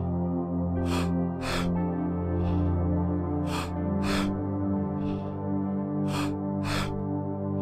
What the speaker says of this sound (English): And keep breathing.